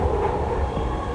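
A SkyTrain metro carriage rumbles along in a brief, steady low roar of wheels and motor heard from inside, with no talk.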